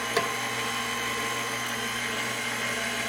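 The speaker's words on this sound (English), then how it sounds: "We're using a KitchenAid. Just put it in low." A KitchenAid stand mixer runs on low, mixing homemade whole wheat bread dough with a steady, even motor hum and a faint knock near the start.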